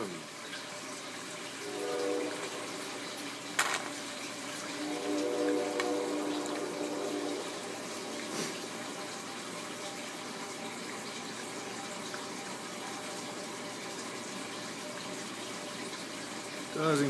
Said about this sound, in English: It goes down, it comes back up, it keeps doing that until the master siphon, which is over there,